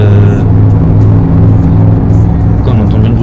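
A truck engine in the Euro Truck Simulator 2 game drones loud and steady with a deep rumbling hum, with no speech over it.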